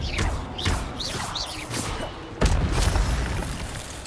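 Spell-casting effects from Hogwarts Legacy combat fire off in quick succession, with whooshing bursts and a heavier thudding impact partway through, set against dense game noise.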